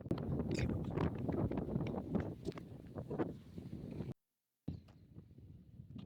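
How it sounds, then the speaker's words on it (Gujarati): Strong outdoor wind at an informal cricket game, buffeting the microphone in rough, gusty rushes of low rumble that rise and fall, cut off briefly by a moment of silence before resuming more faintly. "આટલો પવન છે ને માંડ બોલ જાય છે"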